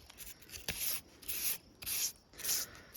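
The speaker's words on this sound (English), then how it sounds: "try to brush off any of that excess rust and grime that's in there" A wire brush scrubbing rust and grime off a 1942 John Deere Model B engine, heard as four close, rhythmic bursts of scratchy rubbing separated by short pauses, with a sharp tap near the start.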